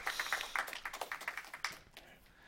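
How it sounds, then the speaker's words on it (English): A small audience at a live-streamed tech talk gives a brief round of applause, sparse distinct claps in a quick irregular patter that thins out after about two seconds. "Round of applause."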